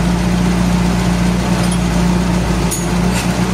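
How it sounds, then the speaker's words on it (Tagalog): A truck or car engine idles steadily up close with a constant low hum and drone, plus a brief faint clink near the end. "Okay pa rin itong makina na ito."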